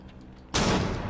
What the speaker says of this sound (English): Fatal, though, is going to take some shots at Castle through the hatch.